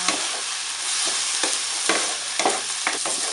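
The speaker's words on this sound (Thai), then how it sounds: "ใส่น้ำต้มเส้นลงไปนิดนึงนะจ๊ะ" Noodle cooking water hits sizzling black bean sauce for Korean jajangmyeon, giving a steady loud sizzle with sharp stirring scrapes of a utensil against the pan, no voices.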